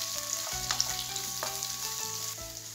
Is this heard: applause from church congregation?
no